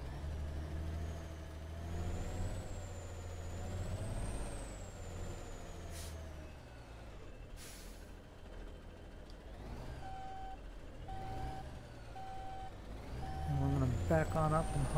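A truck in the Alaskan Truck Sim game backs up toward a trailer, its engine rumbling low under steady reversing beeps, with a sharp hiss of the air brake near the end.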